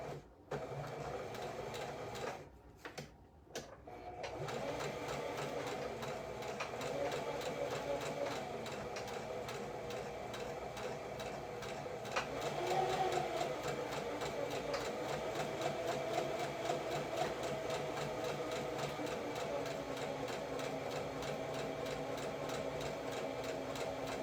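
A sewing machine runs a quarter-inch seam on a bow-back dress, a steady mechanical whir with a brief pause near the start before the stitching resumes continuously.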